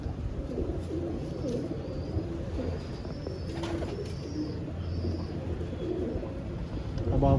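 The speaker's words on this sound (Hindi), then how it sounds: "ये है जी वो गोल्डन कबूतर जिसकी हम बात कर रहे थे" Golden pigeons coo softly and repeatedly among a steady hum in a loft in Dubai. The low, throaty calls come close, with a faint voice briefly present.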